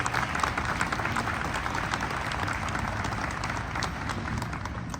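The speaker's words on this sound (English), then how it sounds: "Let's give them a round of applause." Sustained applause from an audience fills the space at a hotel grand opening ceremony at Pixar Place Hotel, dense steady clapping heard close and continuous throughout with no speech over it.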